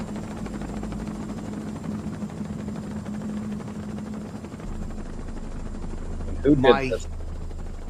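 A helicopter's engine and rotor drone on steadily in the background for the whole stretch, with a short burst of voices near the end.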